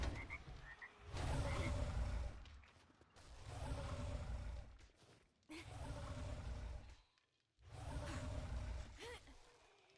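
Frogs croak in the zombie survival game 7 Days to Die, coming in four loud, close bursts of rasping calls separated by short quiet gaps.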